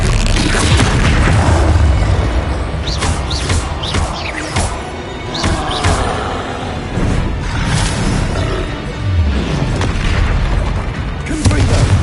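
Confringo blasting curse explosions in a Harry Potter video game: repeated loud booms and crashing bursts with swooshing streaks, dense and continuous for several seconds, several blasts landing close together with no talking.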